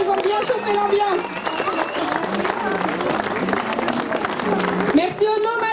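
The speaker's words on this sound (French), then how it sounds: "un tonnerre d'applaudissements, ils ont bien chauffé l'ambiance" A crowd applauds a band at an outdoor music event in Jaulgonne. The dense clapping runs steadily for about six seconds, mixed with loud music and voices.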